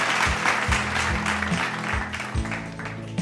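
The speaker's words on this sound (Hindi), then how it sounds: "एक बार जोरदार तालियों के साथ हमारे इन नन्हे कलाकारों का हौसला बढ़ाएं।" Applause for young winners of a Diwali art competition, a few seconds of moderate clapping sitting under a sustained musical tone in the background.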